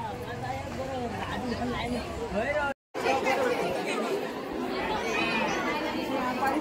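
Dense chatter of a festival crowd of devotees at the Shri Dev Ravalnath temple, many voices babbling at once close by, with a brief dropout midway.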